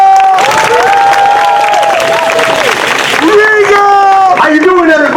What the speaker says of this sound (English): so we give him a round of applause, please